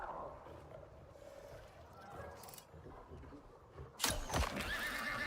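Horse in the video game Icarus, a loud close whinny breaking out near the end after several seconds of low rumbling game ambience and faint hoofbeats.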